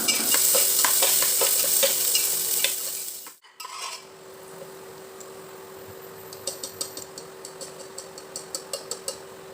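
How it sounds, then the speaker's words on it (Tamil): Sliced onions fry in oil in a pressure cooker for peas pulao, a loud steady sizzle that drops off sharply partway through, then turns quieter with a run of metal stirring clinks. "ஒரு வெங்காயத்தை இந்த மாதிரி நீள நீளமாக கட் பண்ணிவிட்டு அதையும் வறுத்து எடுத்து தனியாக வச்சிடலாம்"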